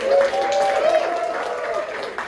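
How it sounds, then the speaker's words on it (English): An audience at a FIST 2025 show applauds the competing teams, steady crowd clapping at moderate distance, with a sustained tonal sound running through it. "Can we give a round of applause for those?"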